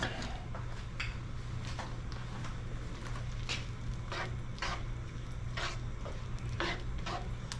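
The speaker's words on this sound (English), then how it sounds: "stir it up." Cactus pieces being stirred in a heated pot on the stove, giving repeated soft scraping strokes at an irregular rhythm over a steady low hum, close by with no talking.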